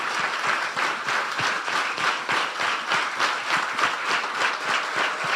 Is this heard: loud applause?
yes